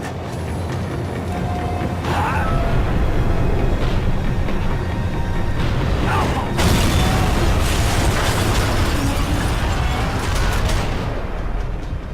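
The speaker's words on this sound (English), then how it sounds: "The tram was slowing down, and I'd only just gotten on board." A tram in the video game Max Payne 3 slows down, a loud continuous rumble of rail wheels and machinery with clanks and bangs throughout.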